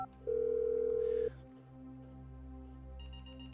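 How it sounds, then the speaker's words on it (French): A telephone detonator for explosives in a video game dials: a steady electronic tone holds for about a second, followed by quieter buzzing and a brief higher beeping near the end, all synthetic and close. "C'est le téléphone pour déclencher les explosifs."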